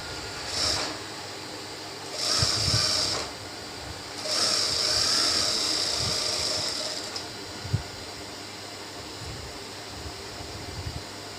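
A sewing machine stitches the hem of a baby's trouser in three short bursts of whirring, each a second or two, and then runs longer, sitting fairly quiet with small handling clicks between runs.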